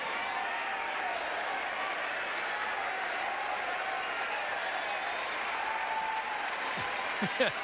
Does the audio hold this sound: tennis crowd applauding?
yes